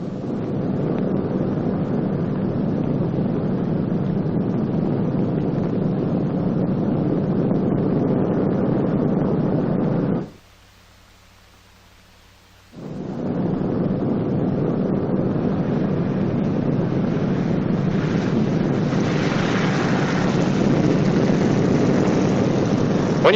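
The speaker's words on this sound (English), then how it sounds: "Notice how the main wheels bear most of the shock of landing." A Boeing B-29 Superfortress bomber landing, heard as a loud, steady roar of engines and rushing wind that cuts out briefly to near silence midway before the roar resumes.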